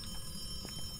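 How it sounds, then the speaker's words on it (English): A telephone rings in the horror game Phasmophobia, a brief muffled ring heard faintly through a busy background. "that was the phone ringing!"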